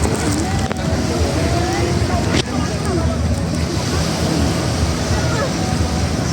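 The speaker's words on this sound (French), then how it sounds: "Là, on a un petit vent, parfois." A light breeze blows outdoors in Pattaya, Thailand, during Songkran, a constant rough rumble of wind buffeting the microphone with a couple of brief knocks and no clear voices.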